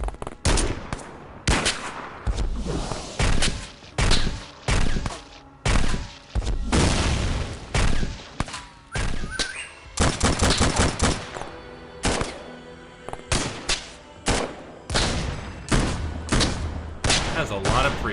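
Rocket launcher blast and rapid gunfire in an XCOM game, a dense run of sharp loud bangs and bursts that keeps going nearly throughout, with scattered quieter thuds between.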